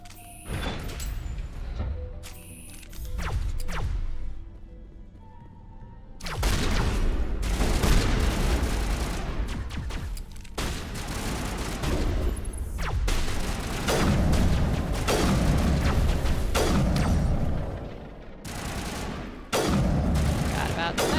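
Sniper gunfire in Mass Effect Legendary Edition. Sharp shots crack out again and again over a busy bed of combat noise, with near-constant loud blasts after the first few seconds.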